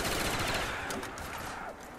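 Rapid gunfire from a Mango Zombies video game, bursts of automatic shots fired continuously and densely for the whole stretch, loud and close with no talking over it.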